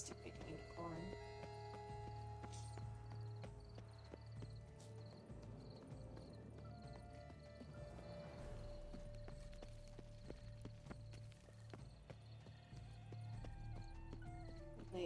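Horse hooves clip-clop steadily in The Witcher 3 video game, with a soft continuous rhythm of steps beneath game music and ambient sounds.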